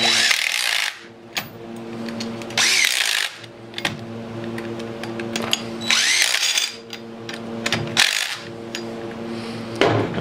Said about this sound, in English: so I'm just tightening them bolts down